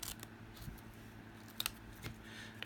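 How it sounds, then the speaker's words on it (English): Scissors snip into a homemade banner, giving a few quiet, crisp cuts spaced apart at close range over a faint background hush. "we do that by doing a snip up the middle and then cut from the corner to that snip"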